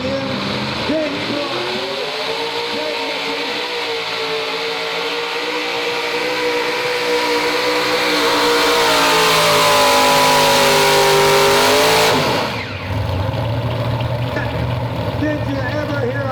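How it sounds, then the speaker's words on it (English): Ford tractor engines at a truck and tractor pull scream loudly at high revs, climbing and holding a sustained roar before cutting off sharply, with an announcer talking over the din. "Did you ever hear a bunch of Fords run like that?"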